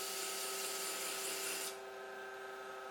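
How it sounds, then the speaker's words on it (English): Sandpaper rubs a thin spinning wooden spindle on a lathe, a soft hissing scrape over the lathe's steady hum that cuts off abruptly partway, leaving only the quieter motor drone. "as I'm sanding."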